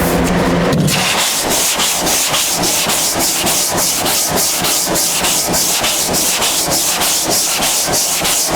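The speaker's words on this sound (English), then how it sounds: "Not much different than sanding Bondo." Steady, rhythmic rasp of block sanding primer by hand, quick back-and-forth strokes scrubbing loudly and continuously, close up with no talking.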